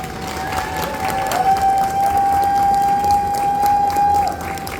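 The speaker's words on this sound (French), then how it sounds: "Donc c'est à moi de vous applaudir et de vous remercier." Audience applause and cheering at the finale of a cosplay contest at Geeklife Le Mans, a steady crowd wash lasting several seconds, with a sustained whistle-like tone running through it.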